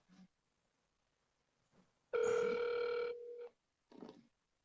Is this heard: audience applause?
no